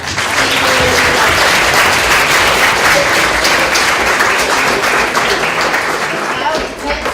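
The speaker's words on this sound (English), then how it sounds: "may I first ask you for a round of applause from all four tables" Loud, sustained applause rises from four tables of debate participants and audience, many hands clapping continuously with voices mixed in underneath.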